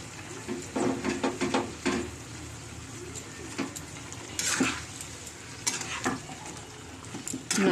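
Cauliflower florets stirred into a spiced masala in a pan, with intermittent scraping and clinking of a spoon against metal over a low sizzle, the strokes coming in irregular bursts.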